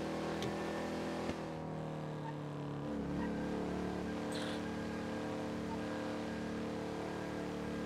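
In GTA V on NoPixel, a car engine drones loudly and continuously at high revs with a four-gear gearbox, holding a steady pitch with only slight shifts.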